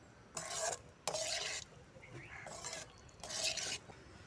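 A spatula scrapes and stirs egg fry with yolk in a pan in several short, rasping bursts separated by brief pauses, with faint sizzling beneath.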